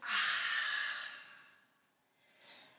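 A woman in a prenatal yoga exercise breathes out in one long, close, airy exhale, followed by a softer short breath, with no speech.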